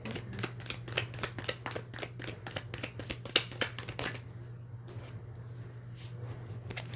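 Tarot cards shuffled by hand in a quick run of crisp riffling snaps for about four seconds, then only a soft low hum, close and fairly quiet.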